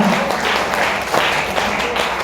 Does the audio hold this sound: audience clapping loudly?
yes